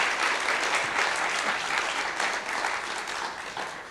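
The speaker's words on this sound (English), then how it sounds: "Round of applause." Audience applause at a theater talk show with the cast of a stage play, a dense, steady wash of many hands clapping that stays loud and even throughout, with no voices standing out.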